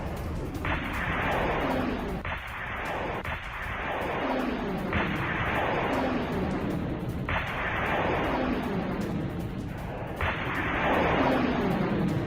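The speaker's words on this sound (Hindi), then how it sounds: "इंडियन नेवी ने युद्धपोत से मिसाइल दागी है" Anti-ship missile launched from an Indian Navy warship in the Arabian Sea: a steady, loud roaring blast with about five heavy booming surges every two to three seconds, and no talk.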